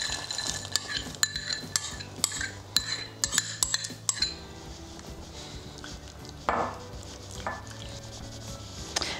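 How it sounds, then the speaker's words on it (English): Chopped frozen veggies go into a pot of boiling pasta, with metal clinks and clatters from utensils against the pot, a few sharp knocks, and a soft bubbling wash underneath. "so I'm going to add in the chopped frozen veggies"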